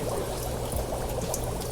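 Water poured into a guppy tank along with a batch of fry, a steady splashing pour running unbroken and fairly close for the whole stretch.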